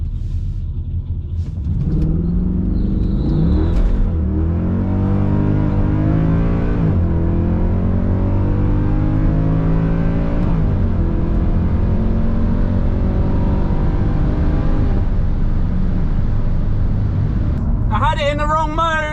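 Mercedes C63 AMG on a drag strip test run, its engine roaring close and loud through repeated upshifts as revs climb and drop over several gears under heavy rumble, with a voice faintly mixed in.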